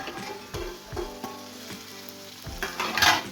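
Spice masala sizzling and frying in hot oil for a homemade rajma curry, with a spoon stirring through it in repeated scrapes; close, steady crackle that grows brighter near the end.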